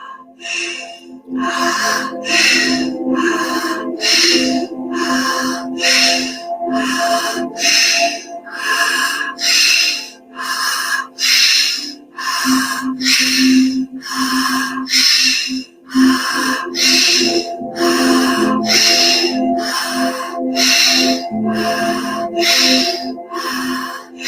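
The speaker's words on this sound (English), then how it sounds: "It's meant to be a clearing breath." Rapid, forceful breaths repeat in a steady rhythm, loud and close, each a sharp rush of air with brief pauses between bursts over a soft background tone.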